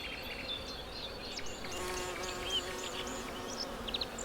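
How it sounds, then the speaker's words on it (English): A freshly swarmed colony of honeybees in the Burgundy bocage buzzes continuously, a dense droning hum with several individual bees whining past close by. "These bees have just swarmed."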